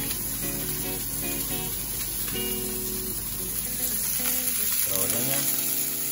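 Butter sizzles in a hot pan alongside steak, a steady close frying hiss crackling throughout, with faint clinks of the pan and utensils and no speech.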